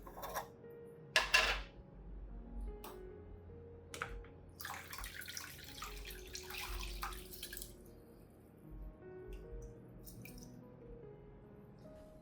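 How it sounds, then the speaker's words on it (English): Strained apple juice poured and mixed with water from soaked eggshells for orchid fertilizer, with a short burst of pouring, then drips, squishy sloshing and a longer gush, quiet and close. "Then I will mix it with the water in which the eggshells were soaked."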